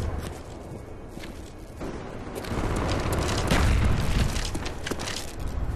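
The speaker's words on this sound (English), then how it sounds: "Wait, someone's shooting at me" Gunfire in a shooter video game: scattered sharp cracks and booms over a rumbling low background that grows louder and busier partway through, with no speech.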